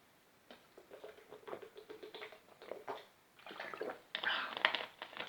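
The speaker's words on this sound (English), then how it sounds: "Let me drink some water." Someone drinks water up close: irregular sloshing, sipping and swallowing sounds come in short bursts, growing busier toward the end.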